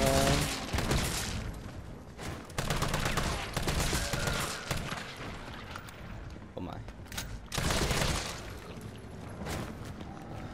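Gunfire in Resident Evil 3 Remake against attacking zombies: several loud, sharp shots spaced through the scene, with softer mechanical clatter and movement between them and someone talking over parts of it.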